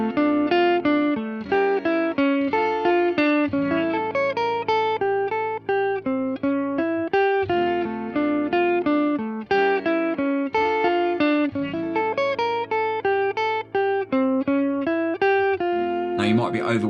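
Guitar picking exercise mixing inside, outside and economy picking: a brisk, continuous run of cleanly picked single notes in a repeating pattern, evenly spaced and close, with the phrase cycling several times without pause.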